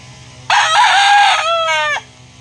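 A P-comb gamefowl broodcock rooster gives one loud, close crow, a strained opening followed by a long wavering call that cuts off abruptly.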